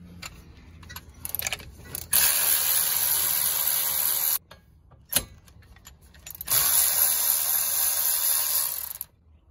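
A tool running in loud bursts while 12 mm bolts are removed from a car's ABS shield during a wheel bearing replacement, two long hissing runs broken by clinks and a sharp metallic knock, close up with no talking.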